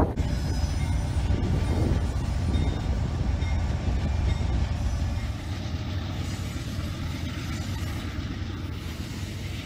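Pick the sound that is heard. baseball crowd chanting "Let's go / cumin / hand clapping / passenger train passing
passenger train passing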